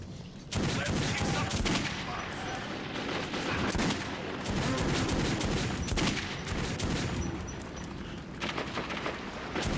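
Loud, rapid gunfire from the video game Metro 2033 rattles in dense bursts, with brief gaps between volleys and near-continuous automatic shooting throughout.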